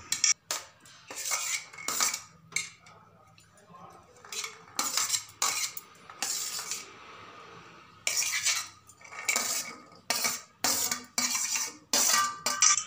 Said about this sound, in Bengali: এরপর একে একে সমস্ত সবজি আর মশলা মিশিয়ে দেব।